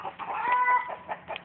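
Chickens cluck in short, uneven bursts close by, several calls overlapping in a steady chatter.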